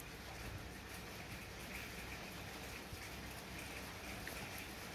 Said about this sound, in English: Oh, sounds like heavy rain's coming.